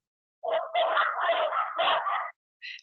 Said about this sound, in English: beautiful Dachshund dogs who are adorable, but something must have triggered them just at that moment